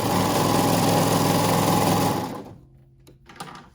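Sewing the crotch seam of leggings, a sewing machine whirs loud and steady at close range for about two seconds, then slows and stops, leaving a faint hum.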